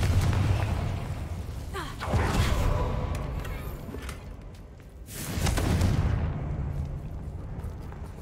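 Confringo blasting spells in Hogwarts Legacy erupt as two loud booming blasts, each opening with a sharp whoosh and rolling into a sustained fiery roar before fading.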